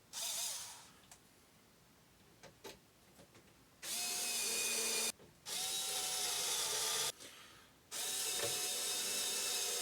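Screwdriver driving screws to assemble a Lidl garden planter, three sustained buzzing runs a second or so long separated by short gaps, with faint clicks between, close and fairly quiet.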